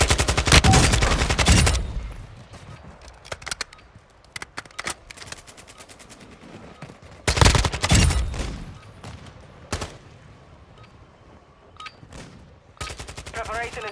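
Bursts of rapid automatic gunfire in the Call of Duty Modern Warfare 2 video game, loud and close, with a long volley at the start, further volleys and single cracks, and quieter gaps between them.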